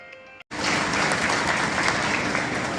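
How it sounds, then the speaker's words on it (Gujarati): Sustained, dense applause from an audience at a retirement honour ceremony, starting suddenly after a short quiet gap and continuing steadily and loud to the end. "ખૂબ ખૂબ તાળીઓ સાથે"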